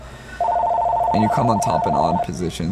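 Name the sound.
telephone ringing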